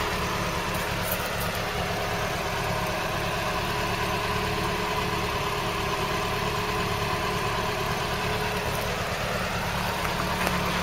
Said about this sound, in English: Listen to that engine though, doesn't that sound nice?